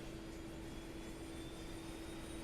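Engine noise from a JustFlight F28 jet airliner in the MSFS 2024 flight simulator, a steady droning whine with a sustained tonal hum, constant and unbroken and with no voices.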